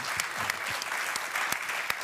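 Applause from a lecture audience after an introduction of three speakers at a lecture on the decolonisation war, a steady patter of many hands with a few sharper claps standing out, fairly quiet and distant.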